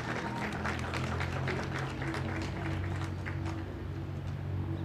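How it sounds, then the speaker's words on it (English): Applause from a crowd at a motor rally launch event, a dense steady patter of clapping over a constant low hum of crowd and engine noise, heard at a distance. "One more time, a round of applause,"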